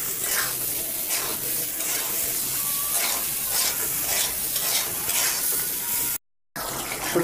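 Dried fish (shutki) sautéing in a pan with steady sizzling and repeated scraping stirs throughout, cutting out briefly near the end with no talk.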